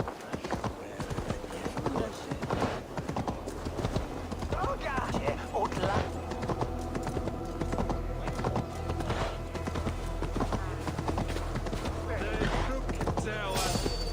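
Horse hooves clip-clop in the video game Assassin's Creed Valhalla, a rapid, continuous patter of hoof beats under ongoing game noise and someone speaking.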